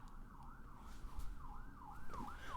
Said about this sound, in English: whatever goddamn motherfucking siren needs to keep going on out there, could you shut the fuck up?